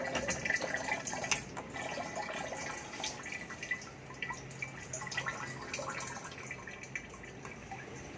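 Water drained from an engine's oil filler and level plug after seawater flooding trickles and drips steadily into a catch below, a thin continuous splashing stream with occasional louder drops, fairly close and alone.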